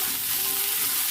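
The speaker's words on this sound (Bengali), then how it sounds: "পেঁয়াজটা একটু ভেজে নেব।" Onion frying in oil in a pan, giving a steady, close, even sizzle with no voices.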